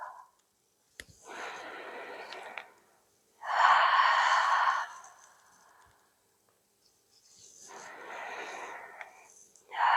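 Deep, slow breaths are drawn during a back mobility exercise: three long, airy inhale and exhale cycles, close and clear, separated by short pauses.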